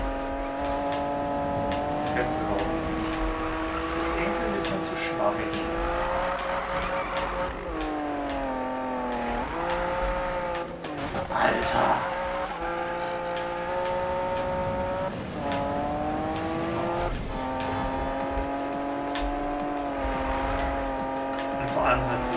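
A Lamborghini in the Need for Speed racing game revs with a sustained engine tone that rises and falls through gear changes, with bursts of tire squeal. Someone speaks briefly over it.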